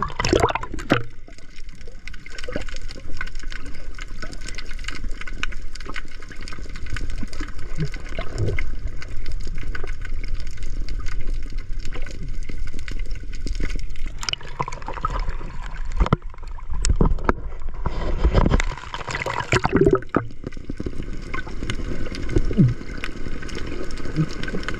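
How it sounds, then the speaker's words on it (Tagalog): Rough sea water sloshing and splashing against a small boat, a steady churning wash with heavier bursts of spray throughout, close and fairly loud. "Ang alit pala ng dagat."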